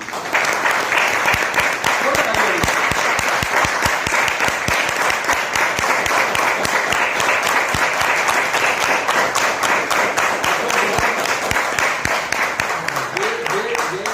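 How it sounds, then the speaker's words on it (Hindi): Loud, sustained applause fills a seminar hall in Nagpur, with many hands clapping in a thick, continuous roar close by for the whole stretch and a faint rhythmic patter running through it. "इसके लिए आपके लिए जोरदार तालियां।"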